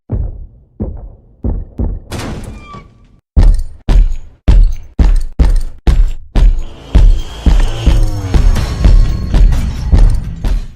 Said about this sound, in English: It's the sound of Mr. X's footsteps.